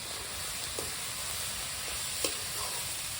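Steady sizzling of pork and potatoes with turmeric frying in an open pot, with a few soft clinks of stirring over the constant crackle.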